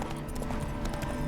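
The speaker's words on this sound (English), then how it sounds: "Spooking my horse." Roach, the horse in The Witcher 3, clip-clops as it is spooked, a quick run of hoof beats under dense ambient game noise and alone.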